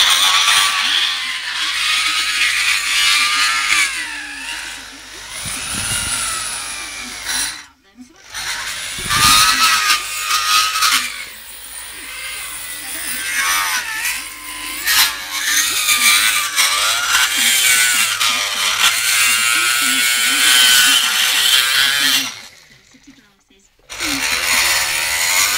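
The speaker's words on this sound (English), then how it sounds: "then I'll get the drill onto it" A power drill whines at shifting speed, grinding into a metal Vespa T5 scooter cylinder while porting it, in long bursts with two brief pauses, close and loud.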